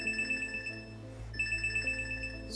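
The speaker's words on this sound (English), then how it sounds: "So that just sent out a health notification." A repeating electronic chime pulses from a device as a health notification goes out on a screen controlled through a brain implant, a steady ringtone-like pattern that pauses briefly midway and then resumes.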